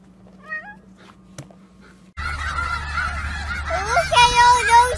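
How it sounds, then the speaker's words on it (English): A flock of chickens clucking and squawking together after a quieter stretch, with varied overlapping calls over steady background noise, fairly loud and close. "Look at all those chickens."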